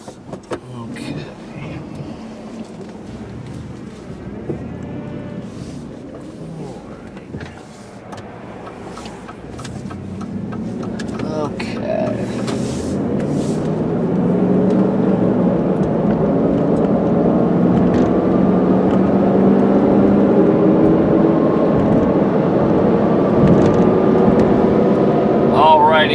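A 2001 Dodge Durango SUV driving on the road, engine and road rumble building steadily as it accelerates to about 50 mph, heard from inside the cabin with someone talking over it.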